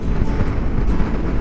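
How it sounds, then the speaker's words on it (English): Strong gusty wind of around 20 to 30 miles per hour, blowing dust and haze on a motorcycle trip near Bisbee, Arizona, heard as loud, continuous low rumbling buffeting across the microphone. "So the wind is really starting to kick up some dust and haze."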